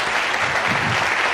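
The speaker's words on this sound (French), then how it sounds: "On peut l'applaudir." Studio audience applause on a Belgian TV quiz show, a brief burst of dense, even clapping from a crowd, loud and close with no talk over it.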